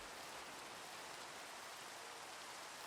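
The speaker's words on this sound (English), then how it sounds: "Is it because it's raining?" Rain falls in Minecraft as a steady, even hiss that stays the same loudness throughout, faint and with no voices.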